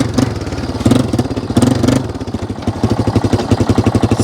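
Yamaha Wolverine ATV engine running close and loud, settling from a rougher, uneven patch into a steady, rhythmic idle putter.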